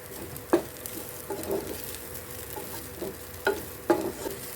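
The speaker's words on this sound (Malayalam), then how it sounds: "ഏകദേശം ഒരു ബ്രൗൺ കളർ ആവണ വരെ നമുക്കിത് വഴറ്റി കൊടുക്കാം." Squid pieces sautéing in a pan for Kerala-style squid roast until browned: a low steady sizzle with a few sharp spoon scrapes and clicks against the pan, close up and free of speech.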